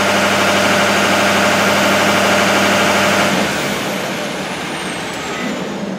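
A 6.7 Powerstroke diesel truck fitted with an aftermarket turbo idles close by, a steady loud rumble with a constant drone that drops somewhat in level about halfway through and then holds.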